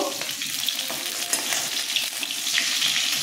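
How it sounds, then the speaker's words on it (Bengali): Aar fish pieces fry in hot oil in a covered pan, a loud, dense crackling sizzle with bursts of spitting and bubbling, heard close and steady with no voices. "মাছগুলো ঢেকে ঢেকে ভাজছি, কারণ ভীষণ ফুটছে মাছগুলো।"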